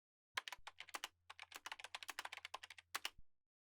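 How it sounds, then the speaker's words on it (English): Computer keyboard keys tapped in a quick, uneven burst of clicks while a web address is entered into a search bar, close and fairly quiet, with no voices. "So I go on and type in mrgreen.com directly in search bar."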